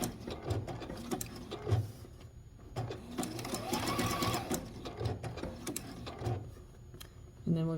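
A sewing machine stitches a snowman quilt with a cardinal, snowflakes and skates, running in a fast, steady mechanical chatter with a few brief stops and restarts.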